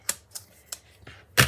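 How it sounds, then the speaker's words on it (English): Scissors snipping a strip for a fake lollipop craft, several short sharp clicks spaced irregularly and ending in a louder cut, close and crisp with no talking. "Grab my scissors."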